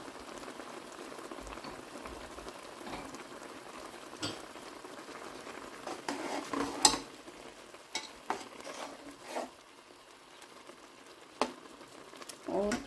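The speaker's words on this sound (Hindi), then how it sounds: "पानी हमारा उबल रहा है इस टाइम और इसमें चावल शामिल कर देंगे।" Quiet bubbling of boiling water with soft scattered pops, then a few louder splashes and stirring clatters as rice is poured in for masoor dal khichdi.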